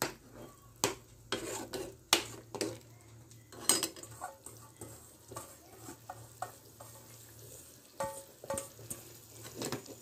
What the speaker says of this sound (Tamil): இப்போ சேர்த்து நல்லா நம்ம வந்து கிண்டி விட்டுக்கணும்